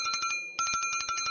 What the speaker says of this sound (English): the tinkling of a bell